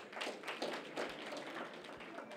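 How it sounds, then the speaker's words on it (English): Audience members at a mayoral campaign event clap their hands, a fairly soft, uneven patter of several people heard alone with no talking. "If you believe that, clap your hands."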